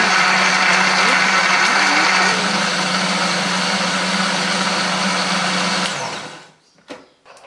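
A blender grinding a spice paste of coriander, pepper, shallots, garlic and turmeric, a loud, steady, high-pitched motor whine that runs for several seconds, then winds down to silence with a couple of faint knocks.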